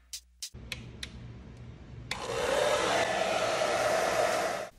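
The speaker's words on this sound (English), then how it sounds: "warm up the display surface, even with ordinary hairdryer" An ordinary hair dryer switches on after a few clicks and blows with a steady, loud whooshing roar for a couple of seconds before cutting off, warming an iPhone 12 Pro Max display during a teardown.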